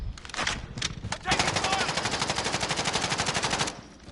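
Call of Duty gunfire: a few short bursts, then a long, fast, unbroken automatic volley that stops abruptly, loud and close.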